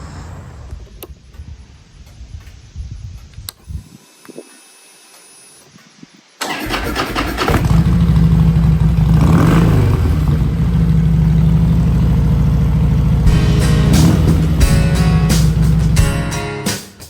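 A motorcycle engine cranks and catches, then settles into a loud, steady close-up idle with occasional revs ahead of a test drive, heard alone without talk.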